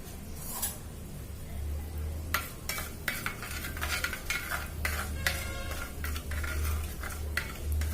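Fenugreek seeds roast in a pan for a Kerala-style tuna fish curry, with a utensil repeatedly scraping and clinking against the metal over a faint low sizzle; the stirring strokes come in irregular bursts, close and moderately quiet, with no talking.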